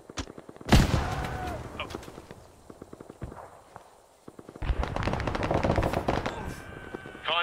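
Rapid automatic gunfire bursts in the Vietnam-era Arma military game, loud, dense volleys and single shots crackling near, with a short lull before another sustained barrage.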